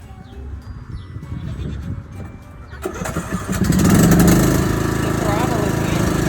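A farm tractor's engine cranking and restarting after stalling, a few seconds of rough turnover followed by a loud steady running roar, with people talking and nearby animal bleats underneath.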